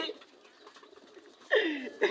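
A pigeon held in someone's hands coos once, close and fairly loud near the end, after a stretch of quiet rustling and faint background sound.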